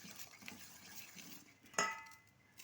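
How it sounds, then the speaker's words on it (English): Spoon scraping and clinking against a pot while a wet chicken dish mixture is stirred, soft stirring noises followed by one sharp metallic clink. "Now we gotta stir it up well until it gets so wet"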